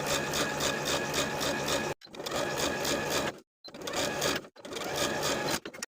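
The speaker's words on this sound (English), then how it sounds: "then we're going to edge stitch close to that inner fold all the way around" A sewing machine edge stitches a hem close to the inner fold, running in four rapid, even bursts separated by short silent pauses, near and loud.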